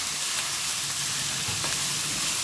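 Chicken and mushrooms frying in a pan and being stirred, a steady close crackling sizzle with faint scraping throughout.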